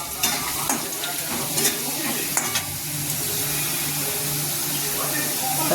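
Potatoes with curry leaves, salt and a pinch of turmeric are stirred in a frying pan for chire pulao, giving a steady close sizzle broken by scraping spoon strokes throughout.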